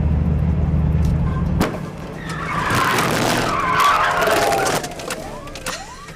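Police patrol car sliding through a PIT maneuver during emergency vehicle operator training, tires skidding and squealing over a steady engine roar, with a long screech rising and falling near the end.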